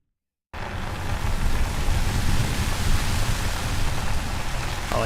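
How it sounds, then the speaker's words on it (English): Rain sound sample layers in a music production session: dense, steady hiss of full rain starting abruptly after a brief silence and continuing evenly throughout, with no talk. "Oh yeah, this is the full rain."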